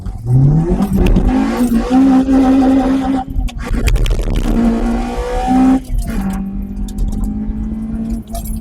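A Honda Civic Type R EP3 accelerates hard into VTEC, its engine note climbing loud and close. The pitch rises through each gear, with short dips at the shifts.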